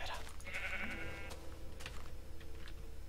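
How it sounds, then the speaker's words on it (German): Sheep bleat in the video game Minecraft: one wavering, nasal bleat near the start, then softer bleats and game noises over a low, steady background hum. "Oh Gott, Schafe."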